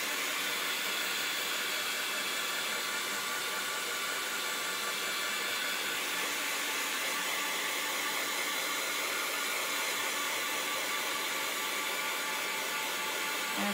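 Hair dryer blowing steadily on a textured craft sign project, a constant broadband roaring hiss held at even level for the whole stretch, close and uninterrupted with no talking.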